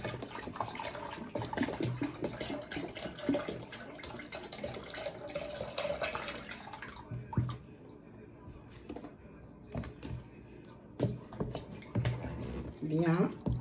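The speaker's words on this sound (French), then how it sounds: "On rajoute le 1 litre de jus d'ananas bio." One litre of organic pineapple juice poured into homemade ginger juice, giving a steady liquid splashing and trickling that runs continuously, then eases into a few drips and lighter splashes near the end.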